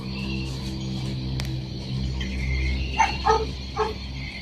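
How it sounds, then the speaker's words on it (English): A few distant dog barks ring out in a short irregular burst over a steady low hum. "dogs go woof woof"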